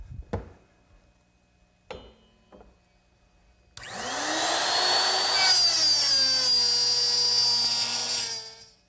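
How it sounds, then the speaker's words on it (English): A few knocks and clicks come first, then a router spins up with a jig to cut the female dovetail slot in wood, a loud, high, sustained whine that rises in pitch and runs steadily to the end, close by. "the instructions for my jig tell me to use the same router setup, but this slot to make the female part of the dovetail"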